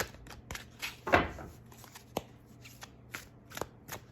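Tarot cards being shuffled by hand up close, with a run of quick papery riffles and soft taps, a louder flurry near the middle, and no voices.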